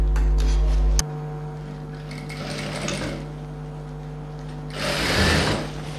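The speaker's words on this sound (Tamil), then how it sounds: "ஃபோல்ட் பண்ணி ஸ்டிச் பண்ணிடலாம்." Sewing machine stitching folded silk pavadai fabric, a steady close mechanical whirring hum with a loud start, running continuously and swelling slightly near the end, with no talk.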